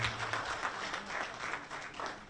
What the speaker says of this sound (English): I think my chair deserves another round of applause, ladies and gentlemen.